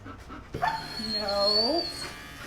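A dog whimpering in a high, wavering whine that rises and bends for about a second, after a short burst of sound, with faint breathy noise around it and a voice nearby.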